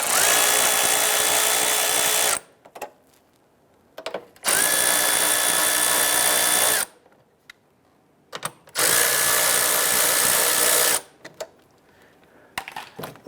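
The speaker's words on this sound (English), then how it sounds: "Using our 10mm socket, we want to go ahead and loosen these here." Grille mounting bolts on a 2005-2010 Chrysler 300 are loosened with a power tool and 10mm socket in three loud whirring bursts of about two seconds each, separated by quiet pauses with faint clicks.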